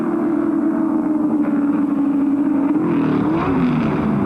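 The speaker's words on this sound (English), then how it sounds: "Commodore, and Cross in for the ride too as they head up Mountain Straight to Bridgestone Corner." Touring race cars at the Bathurst 1000 in 1986, climbing Mountain Straight toward Bridgestone Corner, with a loud sustained engine drone and a rising pitch shift near the end.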